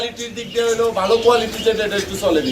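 A male pigeon of the black Beauty colour type coos repeatedly at close range among other birds, its low rolling calls mixed with chatter from a pigeon sale where people talk over it.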